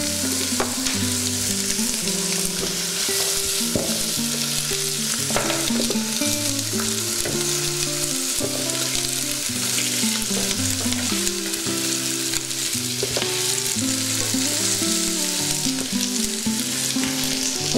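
Veal bone pieces sear in a smoking-hot pan over full heat, giving a steady, loud, crackling sizzle that never lets up, close and with no voices.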